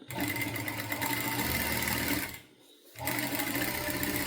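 A sewing machine stitches the lining of a child's top in a fast, steady close whirr. It pauses briefly for about half a second, then resumes at the same pace.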